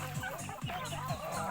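Poultry gobble and cluck close by in a noisy, continuous chatter, with a few repeated throaty calls.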